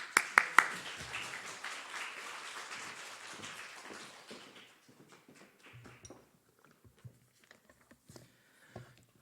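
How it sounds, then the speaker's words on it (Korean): A church congregation at an early-morning monthly prayer service applauds to welcome a visiting pastor. Dense, brisk clapping starts loud, thins out over several seconds and trails off into a few scattered claps. "우리 박수로 환영하고요"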